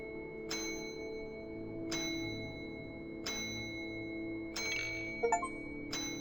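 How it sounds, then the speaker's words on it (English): Lobby bell in the video game Deep Sleep: Labyrinth of the Forsaken, struck four times at a steady pace, each a bright metallic ding with a ringing tail over a low ambient drone, plus a few small clicks near the end. "Ring the lobby bell 20 times."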